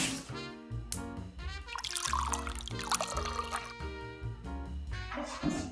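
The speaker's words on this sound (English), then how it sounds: "And then kind of create a stopper and pour off the water." Water sloshing and pouring off freshly washed shrimp in a kitchen, a close, uneven trickle and splash with dripping over a few seconds.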